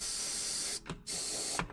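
Airbrush sprays base coat paint onto a hobby model in a steady close hiss, broken by a brief pause near the middle and a short gap toward the end.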